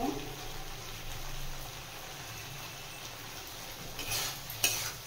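Chilli paneer gets stirred in a pan after salt is added, a quiet continuous sizzle with a few light scraping clinks from the utensil toward the end.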